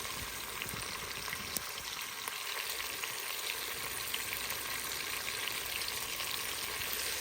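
Chopped onions fry in a pan for vegetable pasta, a continuous crackling sizzle with scattered pops and faint stirring, steady and close throughout.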